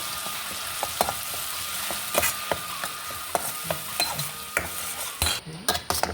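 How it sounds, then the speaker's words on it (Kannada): Spice masala fries in a pan over mustard seeds, a soft steady sizzle broken by repeated metal spoon clinks and scraping as it is stirred, ending in a few louder clatters. "ಈ ಮಸಾಲೆ ಹಾಕೊಂಬ. ಇದಕ್ಕೆ ಫ್ರೈ ಮಾಡ್ಕೊಂಬ ಒಂಚೂರು."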